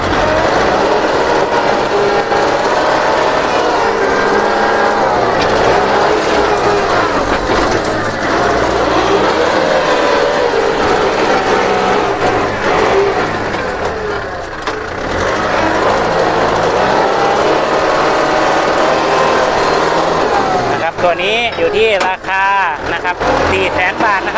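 A Kubota tractor engine running as it is driven, a loud steady mid-pitched drone throughout with brief dips, someone talking over it.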